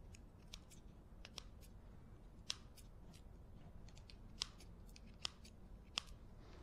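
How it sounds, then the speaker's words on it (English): Scissors trimming excess tape snip in a quiet series of sharp clicks, irregularly spaced, close up with no talking. "use a pair of scissors"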